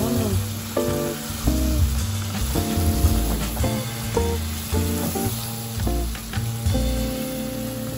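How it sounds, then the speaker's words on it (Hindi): Spices, green chilli and tomato frying in a pan, a continuous loud sizzle with repeated clinks and scrapes of a spoon stirring against the pan, no talking. "इसमें टमाटर डाल के जो है उसको अच्छी तरह से भून लें"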